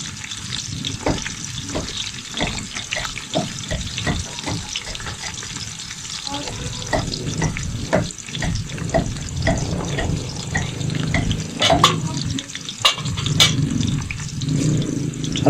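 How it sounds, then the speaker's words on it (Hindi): Onions fry and brown in a pan for aloo pulao, a steady sizzle with stirring scrapes and occasional water sounds, fairly loud and close throughout. "प्याज को आपने बहुत अच्छे तरीके से ब्राउन करना है।"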